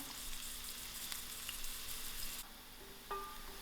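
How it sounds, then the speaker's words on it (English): Onions fry in hot oil in a pan, giving a continuous faint sizzle and crackle that stays steady throughout, with a light stir or clink near the end and no talking. "To my oil, I'm going to add in my onions. And allow this to fry till it's slightly brown."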